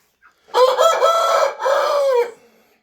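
A rooster crows once, loud and close, its long call rising and then breaking into a second drawn-out phrase before trailing off, with nothing else heard around it.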